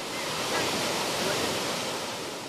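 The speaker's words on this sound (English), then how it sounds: "go down and watch the massive amount of water going through" A massive torrent of Greenland meltwater rushes past, a loud, steady roar of churning water close by with no break or change.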